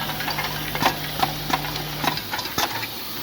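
A KING-SWIFTPACK counting machine restarts and runs, giving a low mechanical hum with a series of sharp, evenly spaced clicks and ticks at close range.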